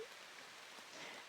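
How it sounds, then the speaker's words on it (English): Steady rain falls in the video game Echoes of the Plum Grove, a soft, even hiss of drops on surfaces with no talk over it. "The rain came in this morning and it doesn't look like it's going to stop anytime soon."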